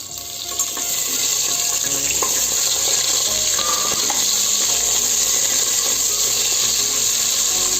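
Cashews, onions and green chillies fry in hot oil for Godavari-style dum biryani, producing a loud, continuous close-up sizzle with occasional scraping stirs.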